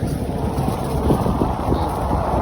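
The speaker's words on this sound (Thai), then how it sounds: "ลมแรงมาก แรงขักแรงไหนจะบ่เป็นตะนังไปหน่อย" Strong wind blows across an outdoor microphone, a steady, dense roar with gusty low rumble and buffeting that never lets up.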